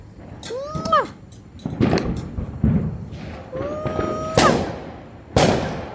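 Sharp Fourth of July firecracker bangs go off one after another in America, with rising whistles before some bursts, heard against background voices.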